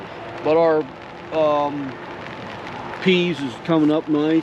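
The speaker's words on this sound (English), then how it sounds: "Starting to rain again." Rain falls on a homestead vegetable garden of peas, spinach and kale, a steady soft hiss running underneath a person talking up close throughout.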